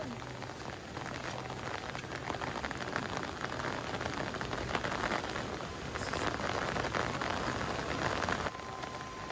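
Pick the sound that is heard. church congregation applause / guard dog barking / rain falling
rain falling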